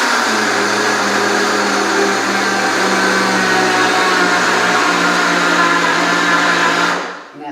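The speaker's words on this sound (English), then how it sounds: "I'm going to blend this to a powder. You do have to have a Vitamix." High-powered Vitamix blender grinding cashews into powder, a loud steady whirring roar held for several seconds, then cutting off abruptly near the end, no talk.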